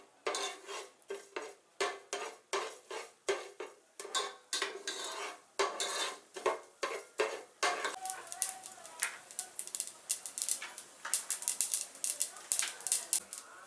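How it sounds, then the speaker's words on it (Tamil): Mustard seeds and urad dal in hot oil for tempering, amid repeated scraping of a spoon against the pan, turn into a dense, crackling, popping splutter in the later part, with a person talking. "கடுகு தாளிக்கிறதுக்கு எண்ணெய் விடுறேன்."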